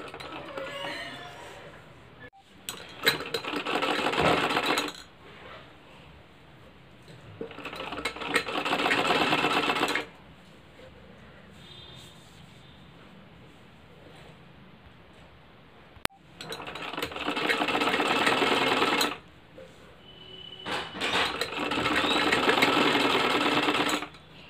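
Sewing machine stitching a kurti, running in several bursts of rapid mechanical whirring lasting a few seconds each, separated by quieter pauses with faint handling clicks, close by.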